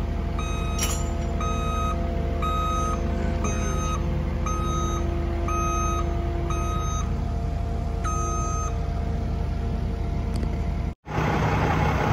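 A truck reverses with its backup alarm beeping in a steady, evenly spaced series over a constant low engine rumble, all loud and close, with no talking and a brief dropout near the end.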